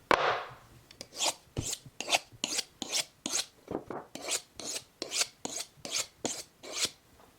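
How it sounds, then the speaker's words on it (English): A 6-inch boning knife drawn repeatedly across a sharpener, about fourteen crisp rasping strokes in a steady rhythm, close and clear with no talking. "That will sharpen my 6-inch boning knife"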